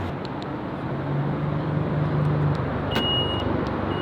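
A Ferrari 488 Spider being driven hard with the top off, its engine giving a steady, loud, close drone that swells slightly through the middle, with a brief high mechanical whine near the end.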